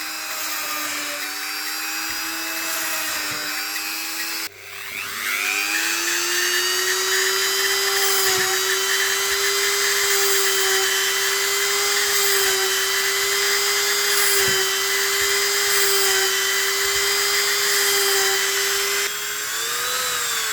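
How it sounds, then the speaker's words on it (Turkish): A handheld rotary tool fitted with a small drill bit boring holes in a printed circuit board gives a loud, steady high-pitched whine that dips briefly as it loads, then holds a sustained tone for about twenty seconds. "Bir tanesi el vızvızımda bu şekilde delik delerken kullanacağım."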